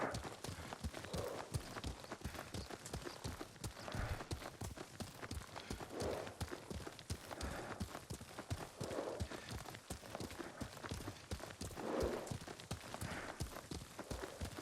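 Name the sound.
horse hooves while riding, from video game Ghost of Tsushima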